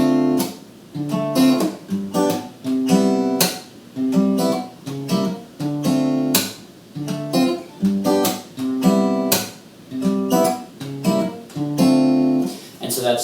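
Acoustic guitar playing a pattern with added percussive slap hits on the strings, close and clear, the chords pulsing in a steady groove with sharp broadband slaps, no talk.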